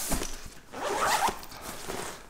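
A backpack zipper is drawn open along the top of a Shimoda camera backpack, giving a close, continuous raspy zip that runs for about two seconds with slight pulls and pauses.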